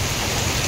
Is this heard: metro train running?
no